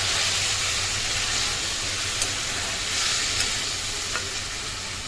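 Spices sizzle and fry in a pan while being stirred, a dense steady hiss with occasional light scrapes and clicks, close and alone with no talking.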